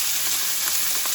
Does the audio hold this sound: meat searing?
yes